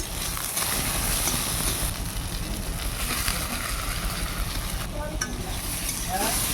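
Eggplant fries in a hot pan as previously fried potatoes are tipped in, giving a loud, steady broadband sizzle with occasional stirring scrapes throughout.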